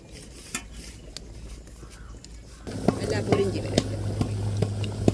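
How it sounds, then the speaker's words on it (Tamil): Samosas drop into hot oil and begin frying, a dense crackling sizzle that jumps up midway and continues steadily, with faint utensil clinks and a person speaking quietly over it. "நான் இந்த எண்ணெயில் செய்து பொறிக்க போகிறேன்"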